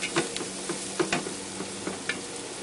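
Flour roux cooking in a nonstick pan gives a soft, steady sizzle, broken by several light scrapes and taps of stirring across a few seconds, close and clear with no voices.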